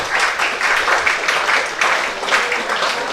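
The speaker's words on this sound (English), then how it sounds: "Kashif Ali makes his way over the boundary rope to the sizable applause from" Cricket crowd at New Road, Worcester, applauding a batsman as he walks off over the boundary rope during a One Day Cup match; dense, steady clapping from a sizable crowd, slightly distant.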